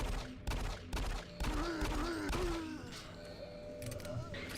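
Video-game gunfire rings out in several sharp bursts across the first half, close and loud, mixed with groans and a voice, then trails into a quieter stretch.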